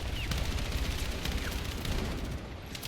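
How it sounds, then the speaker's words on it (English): Sustained suppressing gunfire in the Battlefield 6 video game, a dense, rapid stream of shots rattling continuously at close range with a rumbling low end. "Suppression fire!"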